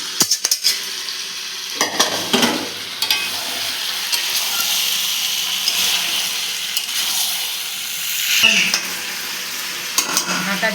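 Fried potatoes go into chicken frying in a pan. A steady loud sizzle runs throughout, with stirring scrapes and knocks of a utensil breaking through at intervals.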